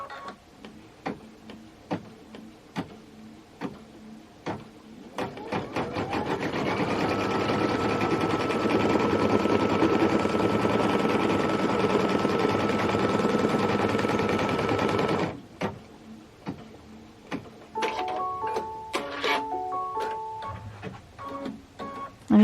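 A sewing machine stitches a placement line on cuff fabric for a Kimberbell holiday sew-along project, with scattered clicks and taps before and after a loud, continuous whirring run of about ten seconds in the middle, then a few short beeps.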